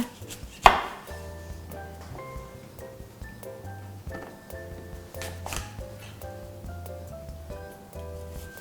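A knife cuts an apple on a board, with a sharp crack early on followed by repeated soft chopping taps and light handling noises.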